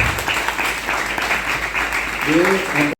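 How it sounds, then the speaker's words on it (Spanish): Audience applause at the close of a university lecture in Panama, a sustained wash of clapping with a voice speaking over it near the end before the sound cuts off. "Un aplauso, por favor."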